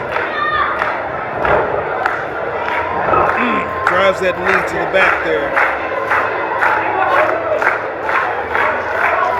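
Wrestling crowd cheering and rallying behind wrestler Zeke West at an HBCW match, loud shouts and clapping with ring thuds under a commentator's voice.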